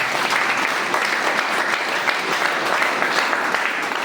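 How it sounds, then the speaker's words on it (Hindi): A crowd at a Safe Shop motivational gathering gives a loud, sustained round of applause for an honoured guest, a dense wall of clapping that holds steady throughout without voices. "हम चाहेंगे हमारे आदरणीय नरेश कुमार मिश्रा सर के लिए जोरदार ताली"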